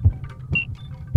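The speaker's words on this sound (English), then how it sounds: "I just got heartbeats." Heartbeat sound in the ghost-hunting video game Ghost Hunters Corp, low dull thumps landing at the start, middle and end, with a faint hum between them and no talk.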